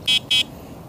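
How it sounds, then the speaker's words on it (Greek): Electric horn on a DYU D20 e-bike gives two short, bright electronic beeps in quick succession, close and clear, then silence. "Κόρνα."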